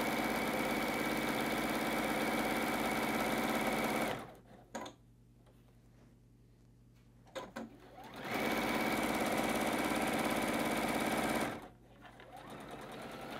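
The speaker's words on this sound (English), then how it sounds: "I'm sewing off the edge, needle down, pivot, continue sewing" A sewing machine stitches a fabric table runner in two long, steady, loud whirring runs, separated by a quiet pause with faint clicks while the needle is set down and the fabric is pivoted.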